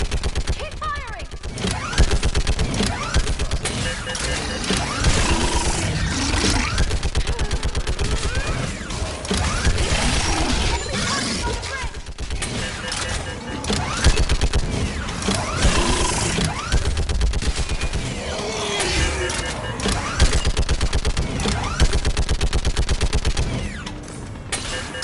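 Dense gunfire in the video game Mass Effect 3, with rapid bursts of automatic fire and booming impacts running nonstop, loud and close, mixed with battlefield noise and occasional shouted voices.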